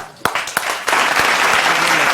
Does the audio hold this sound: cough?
no